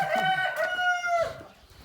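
A rooster crows loudly and close by, a long drawn-out call that trails off into soft clucking.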